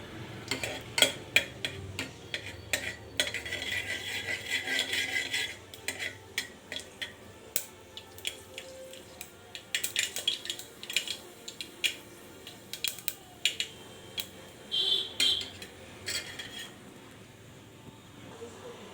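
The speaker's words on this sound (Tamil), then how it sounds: "இப்போ கடுகு நல்லா பொரிஞ்சிருச்சு" Mustard seeds spluttering and popping in a hot pan over a high flame while cooking rice and lentil dish, a steady patter of small sharp crackles.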